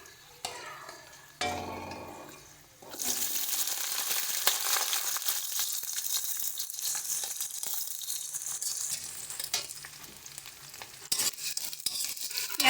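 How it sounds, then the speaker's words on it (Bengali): Chopped onion frying in oil with bay leaves for mutton kosha: a broad, steady sizzle that swells after a few seconds and stays constant, with occasional stirring scrapes, close and alone. "পেঁয়াজটাকে মোটামুটি আমরা যতক্ষণ না গোল্ডেন ব্রাউন হচ্ছে ততক্ষণ এটাকে একটু ভালো করে ভেজে নিতে হবে"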